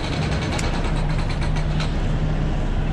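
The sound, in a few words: truck engine running roughly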